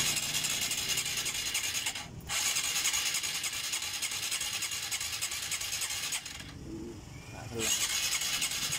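A Honda Supra 125 FI motorcycle with a leaking valve and hard-starting trouble cranks and revs close by, a steady engine roar running throughout with brief dips as the throttle or starter is released.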